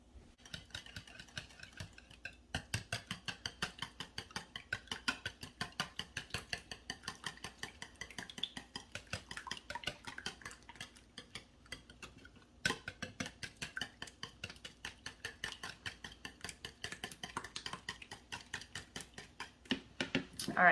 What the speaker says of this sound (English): we're going to whisk this together really quick